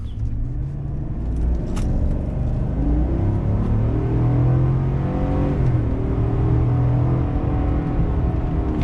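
A 2019 Chevrolet Silverado High Country pickup with the 6.2L V8 accelerates hard from 0 to 60, its engine rumble climbing steadily in pitch from inside the cab over several seconds, with no talking.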